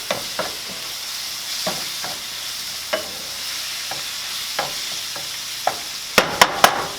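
Food stirred and fried in a pan for an inexpensive home-cooked meal: a steady sizzle with spatula scrapes and taps at irregular intervals, ending in a few sharper clacks, with no talking.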